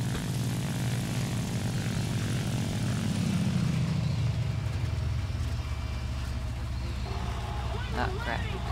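A Focke-Wulf Fw 190 A-4 propeller fighter dives in the War Thunder flight game, its engine and prop roaring loud and continuous with a slowly falling pitch while someone talks over it.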